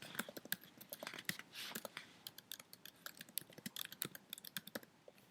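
Rapid key presses on a computer keyboard while entering a spreadsheet footer, quiet close clacks in quick irregular bursts with brief pauses, no voices.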